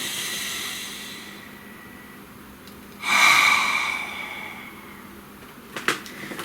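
One deep, audible breath drawn in then slowly released, a breathy hiss swelling and fading, close and alone in a quiet room, with a few soft clicks afterward.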